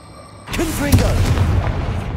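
A Confringo spell blast in Hogwarts Legacy, one sudden loud boom followed by a rumbling tail, with a voice speaking over the start of it.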